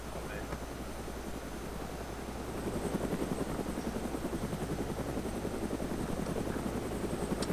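A helicopter in a video game spools up for takeoff with a dense, rapid rotor chop that grows louder and steadier partway through and then holds over a constant engine drone.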